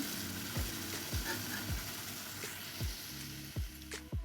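A curry of small shrimp and eggplant being sautéed in a pan, with a steady close sizzle and repeated scraping strokes of a stirring spoon at irregular intervals, no voices.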